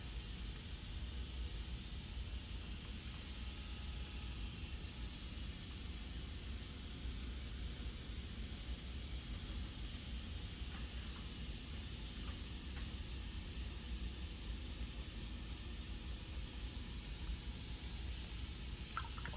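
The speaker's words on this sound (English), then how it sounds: "They put it in a tank, and then the ASMR process of dipping this happens." Hydro dipping film dissolving in a water tank, heard as a faint, steady hiss of water with low background rumble and a few tiny clicks, no speech.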